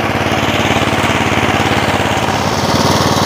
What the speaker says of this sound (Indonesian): Itu mesinnya ngebab karena berat.